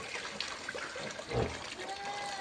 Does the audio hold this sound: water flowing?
yes